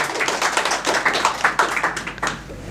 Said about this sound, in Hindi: जोरदार तालियां स्टेज ऑफ कलयुग की पूरी टीम के लिए